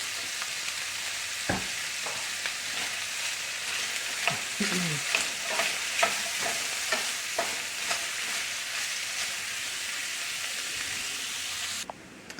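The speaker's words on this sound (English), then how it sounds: "the veggies are cooking down" Vegetables sizzling and cooking down in a pan, a steady close frying hiss with occasional scrapes and taps of a utensil stirring throughout.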